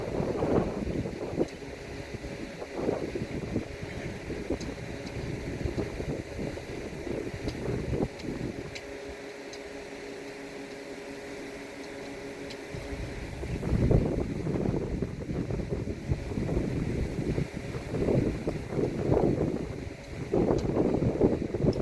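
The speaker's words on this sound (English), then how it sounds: "It's getting windy." Outdoor wind gusts buffet the microphone in Allen, Maryland, producing uneven low rumbling bursts, with a calmer lull in the middle before strong gusting returns.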